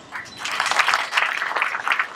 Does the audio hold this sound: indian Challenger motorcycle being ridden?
no